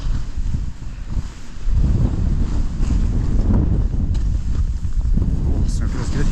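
Strong wind buffets the microphone at Snowbird ski resort, a loud continuous low roar with gusts swelling and easing.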